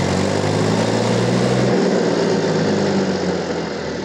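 A small farm tractor's diesel engine runs steadily at close range with a loud low drone while the tractor turns in a tight space, the note dropping slightly partway through.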